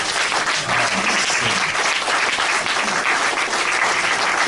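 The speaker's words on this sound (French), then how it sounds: "Est-ce qu'on peut applaudir le Seigneur pour cela?" A church congregation applauds steadily throughout, a dense, continuous wash of clapping from many hands filling the room with no break.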